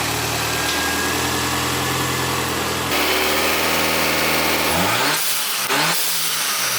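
A rough-running 1990s Toyota engine with a suspected faulty board drones loudly and continuously close by, its pitch shifting unevenly before dropping away near the end, with no voices.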